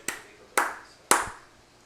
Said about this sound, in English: We'll see who had the stronger clap.